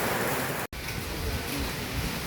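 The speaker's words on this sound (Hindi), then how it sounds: "भाई बारिश स्टार्ट हो चुकी है" Steady rain starting to fall outside a hillside temple in Hastinapur, a dense continuous hiss with a brief cut partway through, no talking.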